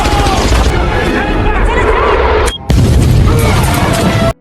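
A film explosion booms loudly and continuously, with dense crashing debris over a crowd-like roar, cut off briefly midway before resuming just as loud and ending abruptly.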